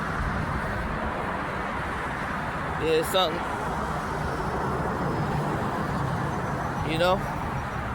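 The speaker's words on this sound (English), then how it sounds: "Gotta speak up because traffic." Continuous road traffic rumbles past on a busy street with a steady, loud broadband wash of passing cars. A voice speaks briefly over the noise.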